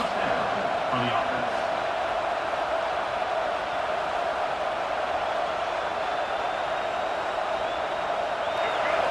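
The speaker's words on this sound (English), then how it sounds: "This crowd, full throat, splitting the eardrums and letting them know it's going to be a long day." A packed college football stadium crowd, Tennessee against South Carolina in conference play, roars in a steady, loud, full-throated wall of noise that holds throughout, with no gaps or pauses.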